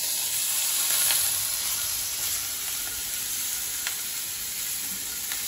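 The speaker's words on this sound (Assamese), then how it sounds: "ইলুটি সিলুটিকে এনেকে ৰঙাকে ভাজি লৈছো" Pieces of singhi catfish frying in oil, producing a constant close sizzle and hiss with a few small pops and ticks scattered through.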